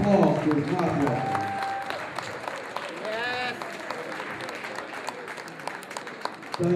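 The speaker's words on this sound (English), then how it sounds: "More applause, please. More applause." Applause from a convention audience fills the space, a dense wash of clapping with a few voices mixed in, steady and fairly close throughout.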